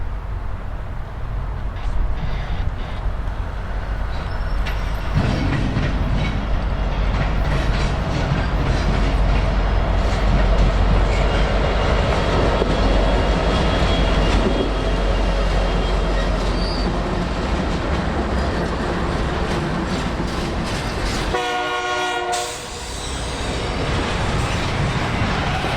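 A Union Pacific freight train led by an AC4400CW locomotive rolls steadily past, a loud continuous roar of wheels and cars with rhythmic clatter, swelling after a few seconds and ending with a brief squealing burst near the close.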